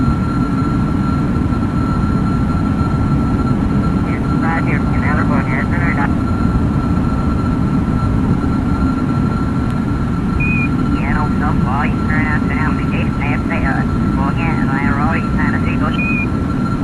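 A steady, loud engine drone from an aircraft flying in Kerbal Space Program fills the whole stretch while someone talks over it.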